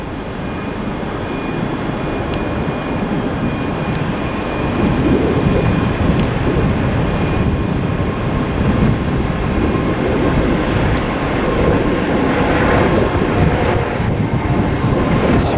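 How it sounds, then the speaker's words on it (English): A ScotRail service from Edinburgh formed of two Class 385 electric units pulls into platform 7 at Glasgow Queen Street, giving a steady loud rumble with a thin high whine above it that runs the whole way, and no voices. "approaching in now is going to be a terminating ScotRail service from Edinburgh"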